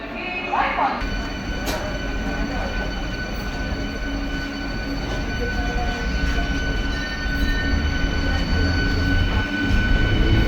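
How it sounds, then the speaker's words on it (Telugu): A MEMU express passenger train departing a platform rumbles steadily at close range, its low roar and engine hum holding through, with faint distant voices under the noise. "ప్లాట్ఫామ్ నెంబర్ 1 మీదకి వెళ్ళేది స్టార్ట్ అవుతుంది మా ట్రైన్."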